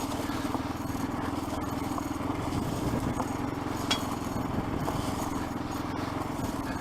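Motorcycle engine running steadily on an abandoned railway trail, a continuous close mid-pitched drone with no letup throughout, accompanied by rough wind and bumping noise.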